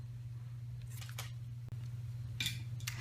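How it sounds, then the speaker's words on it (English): Scissors snip the ends of a paper strip for card making, a few quick crisp cuts in two clusters over a low steady hum, close and quiet. "I flagged the ends there with my scissors"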